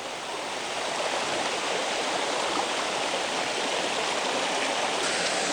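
A waterfall and small streams pour in a continuous, even rush of broadband water noise, close and steady from start to finish with no voices.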